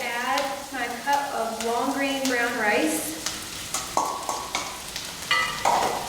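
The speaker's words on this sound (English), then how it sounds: "I'm gonna let that saute for about a minute to let that rice get kind of nice and toasted." Rice toasting in a pan with golden onions and garlic, stirred steadily with a continuous moderate sizzle; a voice-like tonal sound runs under the first few seconds, then scraping stirs and small clicks carry on.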